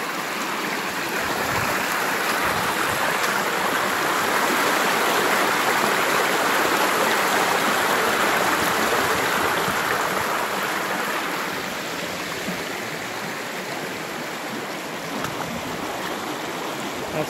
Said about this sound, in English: That's the exit for underground water.